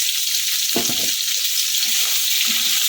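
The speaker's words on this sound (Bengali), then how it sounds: "এটাকে ভালো করে নাড়াচাড়া করবো" Potatoes with a little turmeric powder fry in a pan with a steady, loud hiss throughout, while a utensil stirs them in a few brief scraping bursts near the start and later on.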